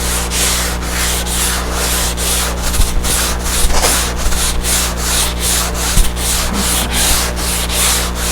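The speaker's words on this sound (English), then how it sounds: "Here I am again using my packing blocks for sanding blocks." A packing block used as a sanding block rubs back and forth over wood in a steady, repeated rhythm, close and loud, with a few small knocks.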